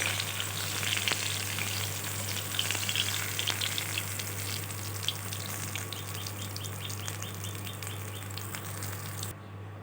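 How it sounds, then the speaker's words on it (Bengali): Shol fish fry in a pan of oil with a continuous close crackling sizzle, sprinkled with small spitting pops throughout. "দেখো মাছগুলো খুব ভালোভাবে লাল লাল করে আমার ভাজা হয়ে গেছে"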